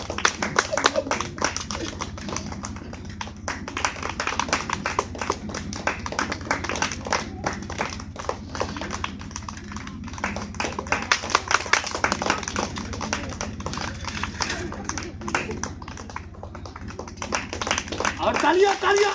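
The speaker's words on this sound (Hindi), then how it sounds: "तालियां खींच के जोर से ये" An audience at a gathering claps loudly and steadily in a rhythmic patter that runs throughout, while someone speaks forcefully over it.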